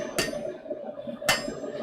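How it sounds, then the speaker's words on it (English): A heavy hammer striking metal in a smithy, two sharp ringing blows about a second apart, close and loud. "This part doesn't really need me having this heavy hammer involved"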